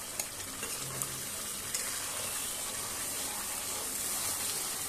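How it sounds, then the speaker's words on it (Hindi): Chicken pieces with a spice paste sizzle and fry steadily in a pan while being stirred, a constant close crackling with occasional scraping of the spoon and no talking. "अब पेस्ट को ऐड करके हम खूब अच्छी तरह से मिक्स कर देंगे।"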